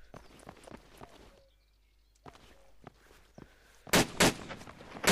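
Gunfire in ArmA 2 Operation Arrowhead: several sharp shots scattered over a field, with a loud cluster of close, crisp reports near the end.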